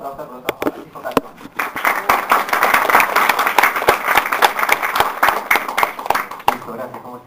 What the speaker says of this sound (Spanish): les pediría que reciban con un fuerte aplauso